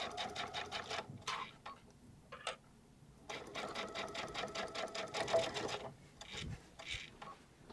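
A sewing machine runs fast, close and rhythmic while top stitching a messenger bag, in several bursts separated by short stops.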